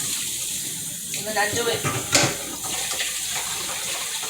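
Water poured off rice while rinsing out the starch, a short splashing gush in the middle of the clip, with a person speaking over it.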